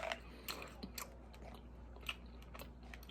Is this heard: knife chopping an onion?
no